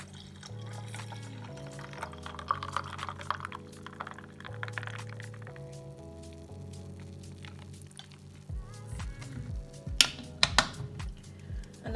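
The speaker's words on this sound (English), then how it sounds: "Next, I'll be pouring my soya milk" Soya milk is poured over ice cubes in a steady, bubbling liquid stream with faint clinks, followed by a few louder knocks and splashes toward the end.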